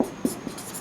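Chalk or marker writing on a classroom board during a physics lesson on scalar and vector quantities, a few short scratchy strokes, close and clear with no talk over them.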